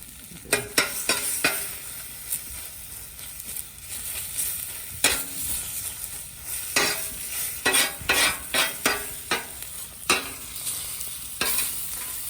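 Eggs scrambled on a Blackstone griddle for breakfast: a metal spatula scrapes and taps the flat-top in quick, irregular strokes over a steady close sizzle, with no talking.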